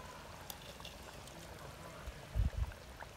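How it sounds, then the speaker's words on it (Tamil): Coriander powder solution is poured into a simmering mutton curry. A faint liquid pour and splash comes in two short bursts near the end over quiet background. "மல்லித்தூள் கரைசலை இதை சேர்க்குறேன்."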